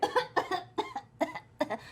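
Repeated coughing from a player voicing a sick character during a Critical Role tabletop game session, about five harsh bursts in quick succession, close and fairly loud, with no talk.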